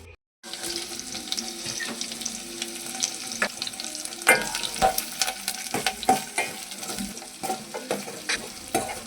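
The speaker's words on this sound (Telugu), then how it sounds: "ఇప్పుడు కడాయిలో ఆయిల్ వేసి సాసులు, జీలకర్ర వేయించాలి." Mustard seeds, cumin, onions and garlic fry in oil in a kadai, a steady crackling sizzle with sharp pops and scraping stirs, close and loud, no voices.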